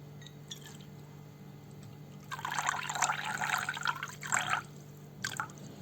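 Milk pours steadily into a pot for a couple of seconds with a splashing, trickling rush, close by, then tapers into a few brief dribbles.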